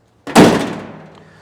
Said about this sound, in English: Tailgate actually opens and closes well.